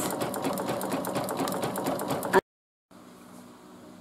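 An embroidery machine stitches a one-eye monster design onto a hooded towel, a fast, steady mechanical chatter of needle strokes that cuts off abruptly, leaving a short silence before a quieter machine hum resumes.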